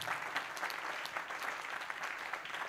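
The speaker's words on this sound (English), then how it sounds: "Oh, the Christians are clapping." Steady clapping from a church congregation during a covenant service, a continuous moderate patter of many hands with sharper claps popping out at irregular moments.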